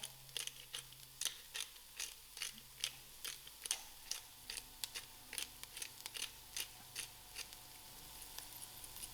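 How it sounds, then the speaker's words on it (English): Black pepper ground in a pepper mill for sweet potato soup, a faint, close run of evenly spaced crunching clicks that repeats steadily for several seconds without talk. "I'm going to give a generous grind of black pepper."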